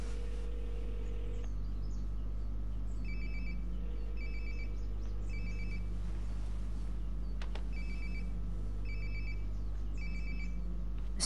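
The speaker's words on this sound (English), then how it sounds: "Sounds like my phone is definitely nearby." A phone rings nearby in Life is Strange: Before the Storm, repeated electronic ringtone bursts in a regular pattern over a low steady hum, with no talking.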